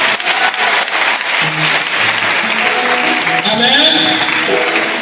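A church congregation at a Saturday morning French-language service claps and cheers in praise of Jesus, steady applause filling the room throughout, with voices and sung or shouted tones rising over it toward the end.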